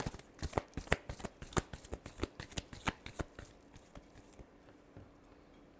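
Tarot cards are shuffled for a reading, a close, crisp run of rapid riffling flicks in a quick rhythm that thins out and fades near the end, with no talk.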